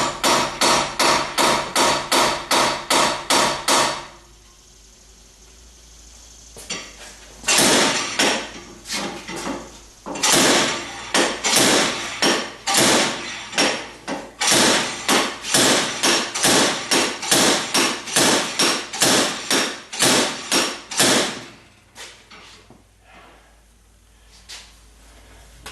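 Rapid series of sharp metallic hammer blows on a chisel against the front hub of a 2011 Cadillac CTS AWD, struck in quick bursts with a brief pause near the start, loud and close.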